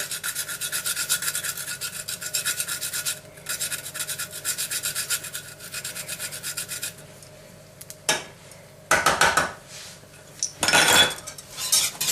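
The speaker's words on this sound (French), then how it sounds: "Donc là, de la noix de muscade." Nutmeg is grated in a kitchen, giving long stretches of steady rasping scrapes, then a pause and a few short, loud clattering bursts of utensils against a pot or dish.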